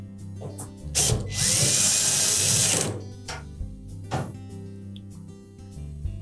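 A power drill drives screws into a Samsung dryer panel during thermal fuse replacement, one steady whirring burst of about two seconds, loud and close, framed by short clicks and clunks of handling.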